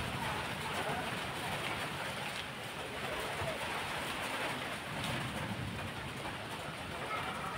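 Rain beginning to fall with gusting wind tossing trees outside a home: a constant broad hiss and rush, moderately loud, with faint swells as gusts come and go.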